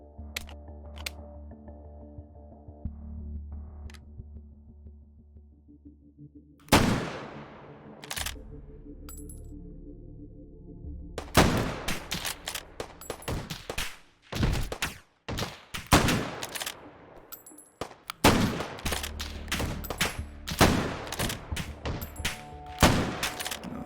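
Gunfire in H3VR rings out in a dense city map: a lone shot first, then scattered sharp cracks building into rapid bursts and volleys, some distant and echoing, with quieter gaps between clusters.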